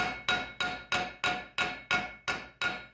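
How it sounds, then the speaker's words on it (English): Nine sharp, evenly spaced hammer blows ring out close by as soft metal is flattened on a custom vented valve cover, each strike a bright metallic tap that quickly decays, with no speech. "This is very soft, so just a little bit of hammering will"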